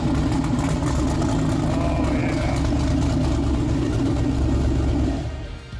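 A 517 HP twin-turbo car engine idles steadily and loudly up close, a deep continuous rumble that holds even before dropping off near the end.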